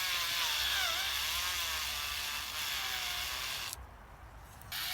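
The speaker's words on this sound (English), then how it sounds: "Drill a hole here." A power drill bores steadily through a bamboo pole for a DIY tomato or cucumber cage, a continuous high whine for almost four seconds before the motor cuts out and the noise drops away.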